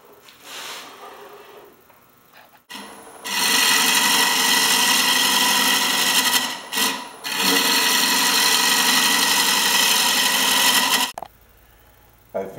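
A wood lathe cuts the inside of a segmented bowl, giving a loud, sustained scraping hiss for about eight seconds with a brief break near the middle. Quieter shop noise comes before and after the cut.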